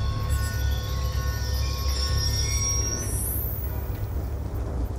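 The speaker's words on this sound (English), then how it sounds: "Ain't getting anything else with that train in the way." A train passing in Call of Duty Black Ops 2, heard as a continuous low rumble with metallic squealing and a rising high whine near the end, steady and fairly loud throughout.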